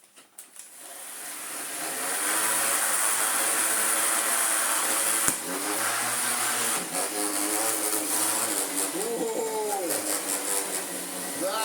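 Vorwerk VK135 vacuum cleaner fitted with a dry carpet cleaning brush, its steady motor whine starting after a brief pause and holding through, briefly interrupted by a knock, with a short spoken exclamation near the start.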